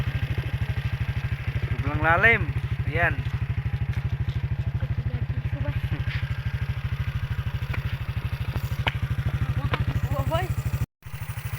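A motorcycle engine runs steadily close by throughout with a fast, even low-pitched throb, while people talk over it and the engine briefly cuts out near the end.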